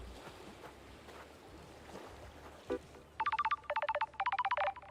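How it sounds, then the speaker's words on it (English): A phone rings in the video game Paradise Killer: three loud bursts of rapid electronic trilling tones arrive after a quiet ambient stretch with a brief thud, each burst lasting about half a second. "Getting a phone call."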